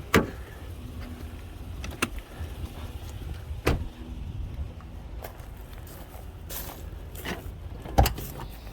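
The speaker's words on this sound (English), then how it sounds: "let me hit the unlock button" Door locks of a Toyota 4Runner Sport Edition 4WD V8 thunking open from the unlock button, with a few sharp nearby clicks and clunks spread across a quiet car interior.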